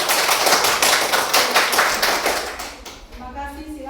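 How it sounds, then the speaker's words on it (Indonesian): A classroom of students claps in a lively burst, many hands together at a steady rhythm, fading out as a voice begins speaking at the end. "Kita kasih dulu tepuk meriah."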